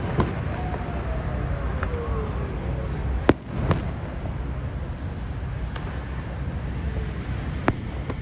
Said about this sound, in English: Now there's a firework.